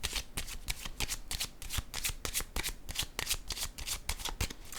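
Playing cards are handled and laid down on a table during a card reading, producing a fast run of crisp, evenly spaced card snaps and riffles, close and fairly loud.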